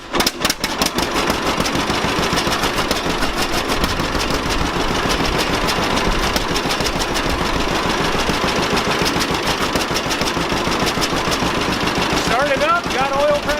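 A John Deere A tractor engine runs steadily and loudly at close range, a continuous chugging idle that fills the whole stretch with a brief voice near the end.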